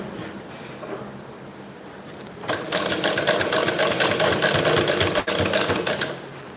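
A sewing machine stitches narrow round piping, starting after a quiet moment and then running steadily at a rapid, even rattle for several seconds before easing off.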